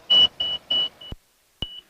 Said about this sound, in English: You hear the stall warning indicator going beep, beep, beep, beep, beep.